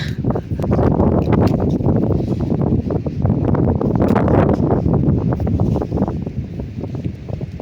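Steady strong wind roars across the microphone, loud low rumbling gusts that barely let up throughout.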